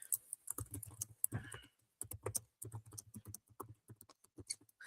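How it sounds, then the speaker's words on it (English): Rapid, irregular tapping of keys on a computer keyboard, close and fairly quiet, in uneven bursts with short pauses between them. "That is horrible typing."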